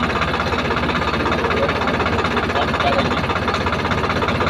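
A steady, rumbling tractor engine runs continuously at close range with a low, knocking throb and no pauses.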